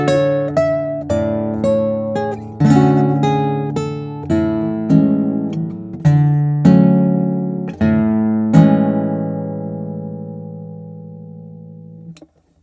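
Nylon-string classical guitar picked up by an L.R. Baggs Lyric internal microphone, playing a slow sequence of plucked chords and single notes, each ringing and decaying before the next, ending on a long sustained chord with no talking.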